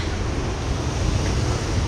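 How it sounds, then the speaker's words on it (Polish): Heavy surf crashes and roars continuously at a cove in Deep Creek, South Australia, a dense wash of churning water mixed with wind buffeting the microphone. "Ogromne fale"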